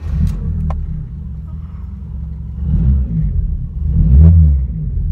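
A Proton Wira car engine starting and running, a low, steady rumble close by with a few revving swells, as a person speaks over it.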